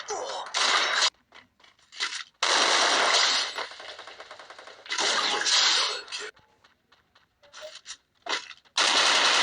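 Gun firing in a video game, heard as several long rapid automatic bursts separated by short pauses and smaller clicks, loud and close, with a voice talking in the gaps.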